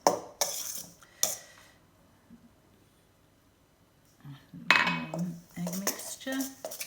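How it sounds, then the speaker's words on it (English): A spoon or spatula clinks against a mixing bowl while egg mixture is cut and stirred into cake batter in a home kitchen, a few sharp scrapes and knocks separated by quiet stretches, close and moderately loud. "So you're almost cutting and stirring at the same time."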